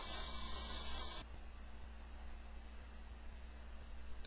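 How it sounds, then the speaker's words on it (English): An airbrush sprays a steady hiss of air to dry a thin paint layer, loud and close for about a second before cutting off sharply, leaving only a faint background hum. "spray a thin layer and then dry it with the air, then spray another layer, dry it with the air"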